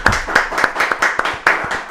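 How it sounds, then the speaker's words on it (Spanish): Clapping welcomes guest Jorge Rolón Luna at a televised Paraguayan talk event: sharp, irregular hand claps, close and fairly loud, from what sounds like only a few people. "vamos a recibir con un fortísimo aplauso a Jorge Rolón Luna"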